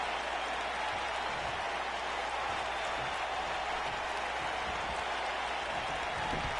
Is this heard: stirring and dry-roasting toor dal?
no